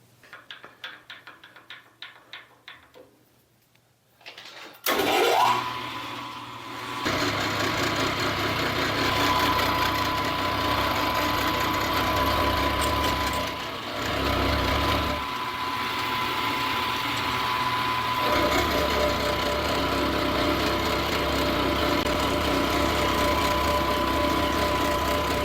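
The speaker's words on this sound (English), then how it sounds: "take a cut with the bottom of the cutter" A milling machine cutter faces a steel steady rest base with the bottom of the cutter: a short quiet stretch, then a loud, steady machining drone with a thin whine that runs on continuously.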